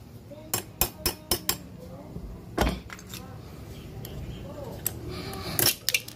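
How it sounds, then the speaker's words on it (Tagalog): Metal clinks and taps while a motorcycle chain is removed from a Sniper 150i: a quick run of sharp tool strikes, then a heavier clank and softer handling clatter, all close, with someone speaking at times. "Okay guys, then tanggalin natin itong kadena."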